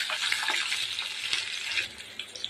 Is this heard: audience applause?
no